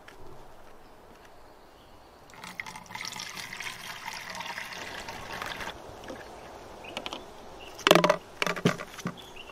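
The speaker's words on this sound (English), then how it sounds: "I'm just going to pour it in carefully here through a funnel" Bordeaux mixture poured through a funnel into a garden sprayer, a soft continuous trickling and splashing of liquid, faint and close, followed by a few sharp plastic knocks.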